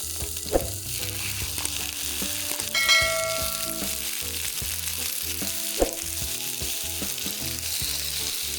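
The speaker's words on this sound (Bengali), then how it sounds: "একই রান্নার হাঁড়িতে তিনটি মাঝারি সাইজের পাকা টমেটো মাঝে কেটে দিয়ে দেবো" Three medium ripe tomatoes, cut in half, frying in a cooking pot for homemade momo sauce, a steady close sizzle with a couple of sharp knocks and clinks, no voices.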